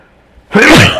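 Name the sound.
sneeze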